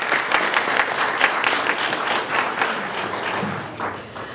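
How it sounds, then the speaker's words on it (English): An audience at a spelling bee championship in Canada breaks into a burst of applause, many hands clapping densely and evenly, fairly loud and tapering slightly toward the end, with no speech over it. "So a big round of applause to all of you here today"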